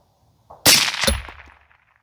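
A single suppressed shot from a bull-barrel rifle during a sighting-in session, with a sharp close crack followed by a fading ring-out and echo over about a second.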